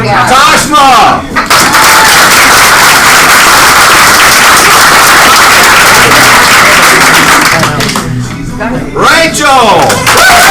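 An audience at a KW Atlanta Perimeter team meeting bursts into loud, sustained clapping and cheering, a dense wash of applause, with a voice calling out at the start and again near the end.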